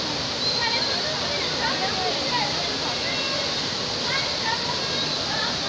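Floodwater after heavy rain rushes in a loud, continuous roar, a dense steady torrent filling the whole stretch with no letup.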